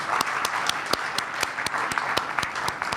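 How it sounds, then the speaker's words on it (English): Audience at a college kick-off event claps in a full, steady round of applause, with distinct individual hand claps punctuating a dense, continuous wash of sound. "give yourselves a round of applause for being here"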